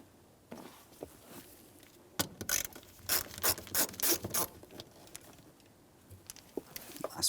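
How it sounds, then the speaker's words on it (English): Phillips head screwdriver backing out the shield mounting screws on a 1992-1996 Toyota Camry, giving a run of close, dry clicking and scraping turns in short bursts with pauses between them. "we'll continue on with a Phillips head screwdriver to remove all of the hardware"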